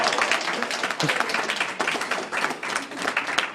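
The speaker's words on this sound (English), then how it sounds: "please give a big, very funny applause to Russ Hodman!" Audience applause at an open-mic stand-up comedy night, a dense, steady wash of clapping from a crowd that carries on throughout, fairly loud with some cheering mixed in.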